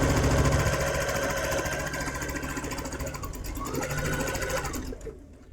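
A sewing machine stitches quilt block pieces together in a quarter-inch seam, a steady, loud, continuous mechanical whir that runs for about five seconds and then stops abruptly.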